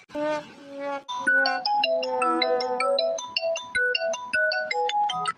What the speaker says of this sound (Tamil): உன் ஃபோன் தான் அடிக்கிறது பாரு